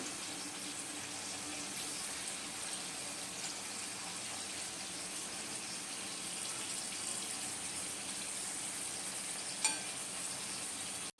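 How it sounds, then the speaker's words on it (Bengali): Homemade potato chips deep-frying in hot oil give a constant, even crackling sizzle that continues at a moderate level throughout, with one brief sharp tick near the end. "চিপসগুলো হাতে সময় নিয়ে ভাজতে হবে। এটা প্রায় 10 থেকে 15 মিনিট ভাজতে সময় লাগে।"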